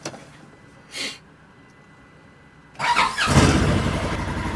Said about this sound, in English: let's see if the Polaris wants to start up this morning